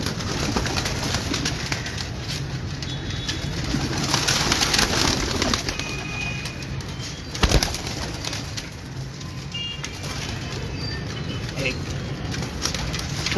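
Breeder pigeons cooing and fluttering nearby while being caught and handled on a Lahore rooftop, amid a busy, noisy background, with brief wing flaps and a sharp thump partway through.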